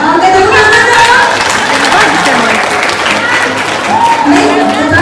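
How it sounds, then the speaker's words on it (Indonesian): Loud audience applause fills a hall after a speaker's closing remarks at a university community-service event, a dense, steady clapping from a crowd that swells and lingers for several seconds. "Oke, tepuk tangan dong."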